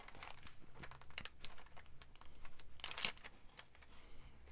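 Scissors cutting a sheet of paper in half for a one-sheet double flap wallet, close and quiet, with crisp snipping and crinkling strokes in an irregular rhythm and no talking.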